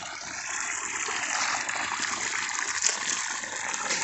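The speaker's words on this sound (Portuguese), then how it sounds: "essa água vem na gravidade. Ela vem lá de cima da barragem." Water released from a dam runs down by gravity in a steady, moderately close gush and trickle, with continuous splashing and no voices over it.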